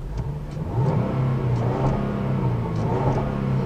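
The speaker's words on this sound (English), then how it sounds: "And I love that supercharger whine." A 3-liter supercharged Jaguar V6 in a 2016 Range Rover HSE revs up, its steady mid-pitched engine drone rising and holding loud and close with a faint supercharger whine, no voices.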